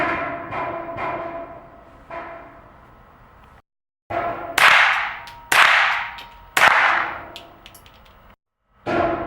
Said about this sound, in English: We'll be shooting 3 rounds unsuppressed and then 3 rounds suppressed.